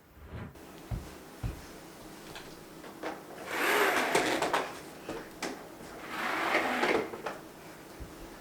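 Cordless window blinds being pulled closed in a house, heard as two separate rustling, sliding sweeps a few seconds apart. Faint knocks and handling noises come before them, with no talking.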